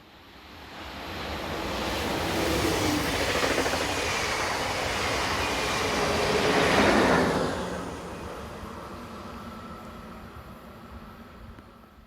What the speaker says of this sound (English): The train is passed by 1144210 working a service from Neumarkt Callum to Passau.